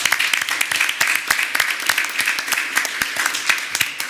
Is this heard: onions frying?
no